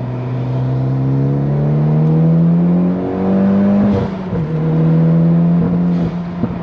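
A Mitsubishi Evo X engine with a bad misfire pulls at full throttle, a loud steady drone rising in pitch and then briefly stumbling and dropping before climbing again, recorded from inside the car.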